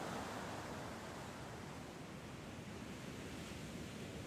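Sea waves at the seaside, a soft continuous wash of surf with a wind-like hiss, steady and fairly faint, with no talking.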